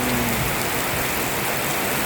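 Steady rain pours down during the rainy season in Thailand, a dense continuous hiss of drops on surfaces, close and loud throughout with no talking.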